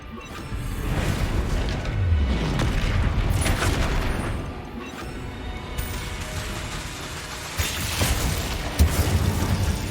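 A Bombarda spell explodes in the Hogwarts Legacy video game, a loud boom among sustained crashing and rumbling blasts, with further sharp impacts later on.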